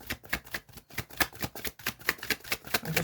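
A deck of cards being shuffled quickly during a tarot-style reading, a rapid run of crisp riffling snaps and flutters repeating throughout, close and fairly quiet, with no talking.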